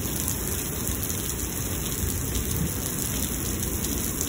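Heavy rain from a thunderstorm in Lubbock, Texas pours down in a dense, unbroken roar that holds at an even, loud level.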